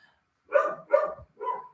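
A pet dog barks three times in quick succession at close range, the yips short and sharp with brief gaps, alone with no talking.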